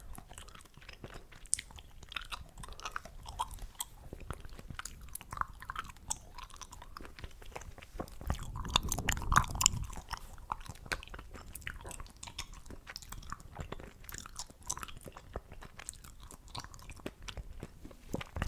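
Chewing gum worked close to the microphone in an ASMR setting, a continuous run of wet, sticky chews and small clicks in a steady rhythm, with a brief heavier rumble midway and no talking.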